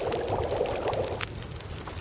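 Water pours from a container to make tea in The Long Dark, a short splashing pour that runs for about a second before tapering into quieter drips.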